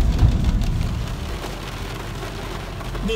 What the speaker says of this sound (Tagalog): Ako, malakas ang ulan.